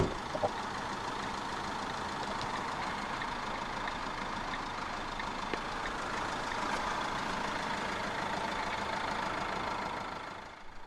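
A 2018 Fiat Qubo 1.3 Multijet 16v diesel engine idles steadily with a continuous, even rumble and clatter, heard up close and alone with no talk.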